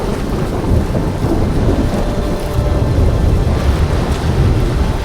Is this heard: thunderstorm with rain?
yes